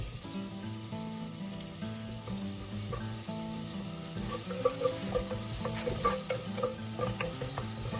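Onion sizzles in oil in a clay pot over medium gas while being stirred, a steady soft crackle with scraping stir strokes and light clinks growing busier toward the end.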